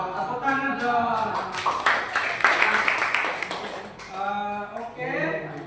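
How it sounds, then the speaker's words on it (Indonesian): Children clapping hands in a classroom, a burst of quick scattered claps from many hands rising and fading over a few seconds, with children's voices talking before and after. "Tepuk tangan dong."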